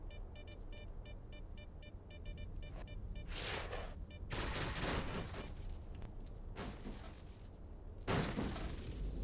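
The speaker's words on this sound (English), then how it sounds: "out of bullets and I'm just shooting here like there's no more tomorrow" Gunfire in the video game S.T.A.L.K.E.R.: Call of Pripyat comes as faint, sharp bursts of shots, with a clear burst in the middle and another toward the end over a quiet game backdrop.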